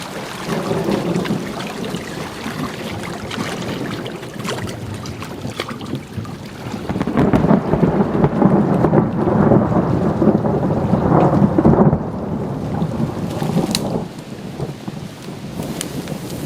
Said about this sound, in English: a couple of those lightning strikes got really close and then huge booms of thunder